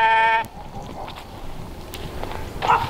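Sheep on a farm clearing brush: one clear, loud bleat up front, then quieter rustling and footsteps, with a fainter bleat or call near the end.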